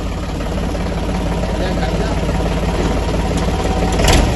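A tractor engine idles steadily at a farm where homemade jaggery is being made, a low, even rumble with faint knocking that runs throughout, growing slightly louder near the end.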